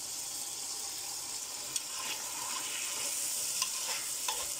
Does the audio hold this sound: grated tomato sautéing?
yes